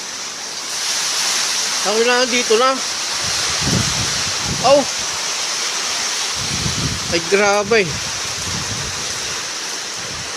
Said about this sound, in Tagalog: Kalakas ang ulan at hangin.